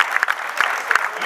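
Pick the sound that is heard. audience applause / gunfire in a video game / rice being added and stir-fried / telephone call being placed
audience applause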